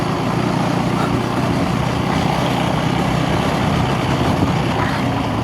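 A KTM ADV 350 motorcycle engine runs at a steady drone, loud and close, with no breaks and no voices over it.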